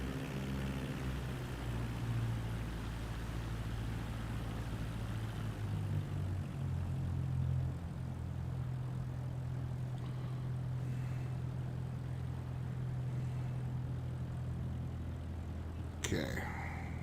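Small propeller aircraft taxiing on an airport taxiway toward general aviation parking in Microsoft Flight Simulator 2024: a steady low engine drone that holds evenly throughout, with a brief sharp click near the end.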